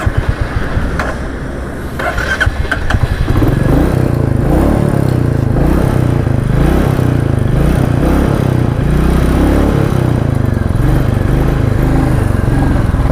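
A Royal Enfield Meteor 350 motorcycle from 2025 idles, its single-cylinder engine thumping in a steady loud beat close by after a brief quieter start, with no voices over it.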